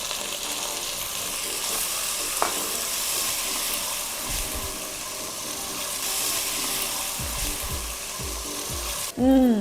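Tomatoes dropped into a pan of frying ginger give a loud, continuous close sizzle and hiss, with a few soft stirring scrapes and a sharp clang at the very end.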